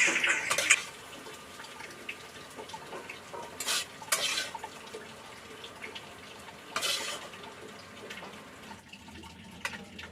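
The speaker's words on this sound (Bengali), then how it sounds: "আমি দেখো আলু ভাজা করছি এখানে" Potatoes frying in a pan in a home kitchen, a soft steady sizzle running throughout with a few louder scraping and clattering bursts from stirring, moderately close, no talking.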